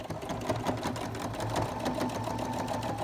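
A sewing machine stitches a lanyard with a steady, continuous mechanical whir and a fast needle rhythm, close and alone for the whole stretch, with no talking.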